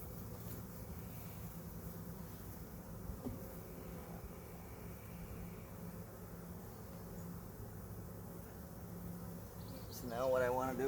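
A ground swarm of bees near a hive, a faint steady low buzzing drone throughout with a brief louder rustle near the end.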